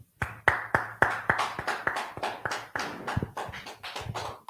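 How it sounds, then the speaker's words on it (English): A small group at a Friday class gathering claps in sparse, uneven bursts, with sharp individual claps close by and no talking over them. "Let's clap it up."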